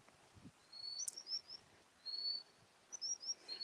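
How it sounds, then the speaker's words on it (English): A small bird calls near Hadrian's Wall by a stream, giving thin high chirps and short whistled phrases in scattered bursts against quiet outdoor ambience, with no talking. "There's that bird. No idea what it is."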